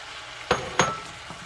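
Meat dropped back into a pan of frying cabbage and peppers, with two soft thumps and stirring over a quiet sizzle, one after the other, then a smaller knock.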